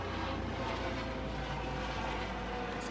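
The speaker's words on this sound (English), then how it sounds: "It's a helicopter." Steady, loud engine drone of a helicopter passing overhead, a continuous roar filling the whole moment without letup.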